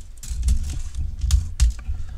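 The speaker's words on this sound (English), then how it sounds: "I'm screwing with the tape measure here." Metal tape measure being handled while checking a Kenner Ghostbusters ECTO-1 toy car, a run of close clicks, rattles and light knocks with a few sharper snaps, no talking.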